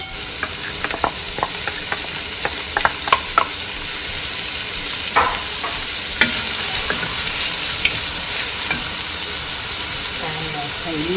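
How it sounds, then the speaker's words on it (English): Onion frying for chicken biryani, a constant loud sizzle and hiss from the pan with intermittent stirring taps early on, then a steadier frying roar. "now I'm going to add my onion"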